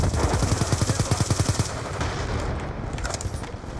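Automatic gunfire in Black Ops 3 rattles out as a loud, fast burst of evenly spaced shots for over a second, then tails off into quieter game noise and scattered distant pops.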